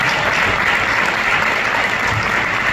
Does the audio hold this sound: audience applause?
yes